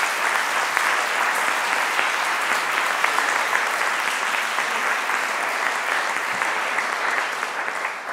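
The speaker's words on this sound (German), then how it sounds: "ganz ein großer Applaus" Sustained applause fills a church during a confirmation service with a bishop: dense, even clapping from a large congregation holds steady for about eight seconds and fades slightly at the end.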